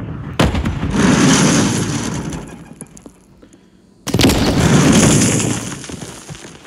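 A C4 charge detonates in a competitive online shooter game, producing two heavy, loud blasts a few seconds apart, each with a long rumbling decay.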